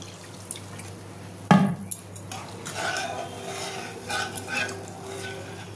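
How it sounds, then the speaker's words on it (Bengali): Water is poured into sizzling spice paste in a pan for a Bengali methi hilsa curry, a sharp burst of sizzling followed by quieter bubbling and stirring clinks. "এবার আমি এর মধ্যে অল্প জল দিয়ে দেবো, বেশি দেবো না"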